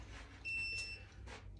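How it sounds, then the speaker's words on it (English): Auto-folding mobility scooter giving a single short electronic beep, a clear tone of about half a second against quiet background, with no talk. "No loud beeping, just a single beep"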